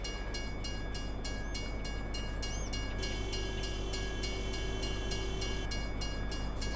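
A train in Farming Simulator 22 rolls past with a steady low rumble and clatter, its horn sounding in short repeated blasts and then a longer held tone, moderately distant.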